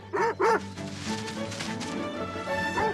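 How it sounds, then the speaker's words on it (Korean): In a film scene, a small dog gives two sharp, close yips, then quieter whimpering noises continue over a soft background of music. "I think that you're a girl dog, I'm going to call you Jemima"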